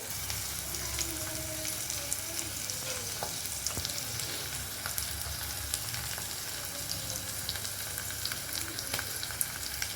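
Green chillies and vegetables frying in hot oil give a steady, close sizzle with faint stirring clicks, with no talking over it.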